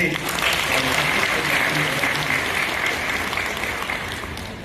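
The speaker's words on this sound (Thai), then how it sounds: "ด้วยกรุณาปรบมือให้กำลังใจ" Sustained applause from an audience at a Democrat Party members' meeting in Thailand, a dense steady roar of clapping that holds strong throughout with a voice faintly under it.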